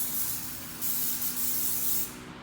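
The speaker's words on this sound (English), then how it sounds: "And we're going to spray." Hairspray misted from an aerosol can onto a ballet bun, a close, steady hiss in two sustained bursts separated by a brief dip, ending as the spray stops.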